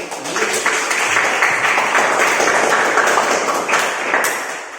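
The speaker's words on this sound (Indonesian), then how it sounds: "Tepuk tangan dulu." Classroom applause from a group of students, steady dense clapping that holds loud for nearly five seconds with occasional sharper claps near the end.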